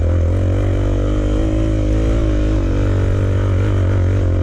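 A motor vehicle engine labours up a hill climb on a green lane on Salisbury Plain, a loud, steady low drone with slight rises in pitch as it pulls.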